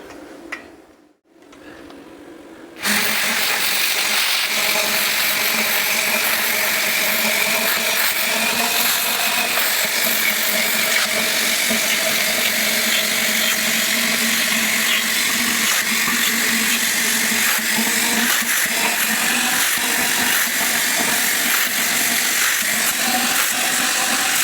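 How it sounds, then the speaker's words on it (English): Power tool cutting a piece of metal for a mini excavator boom cylinder shield, starting up after a short quiet pause and then running as a loud, steady, continuous whine close by, with no speech. "now we'll cut right down along there, and then we'll move this over, and then we'll cut the other side."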